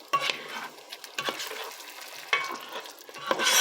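Poutine sauce cooks in a pan, with a soft sizzle under repeated scraping stir strokes that come in uneven bursts. No one speaks.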